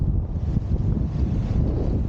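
A strong gust of wind roars across a microphone during wing foiling on open water, a loud, dense low buffeting that persists throughout without speech.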